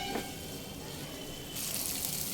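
Pre-fried potatoes tipped into a pan of hot masala for katla fish muitha, a steady soft sizzle with a brief stirring scrape, rising slightly in brightness toward the end.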